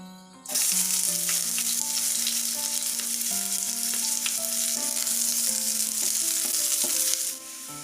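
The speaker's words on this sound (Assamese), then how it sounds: "তেলখিনি গৰম হৈ উঠিল। মই ইয়াতে এতিয়া কালজিৰা কেইটামান দি ল'ম। কাটি ৰখা পিঁয়াজখিনি দি দিম।" Chopped onions and kalonji seeds hit hot oil and break into a loud, steady sizzle that holds for several seconds before easing off, with occasional stirring clinks and no talk.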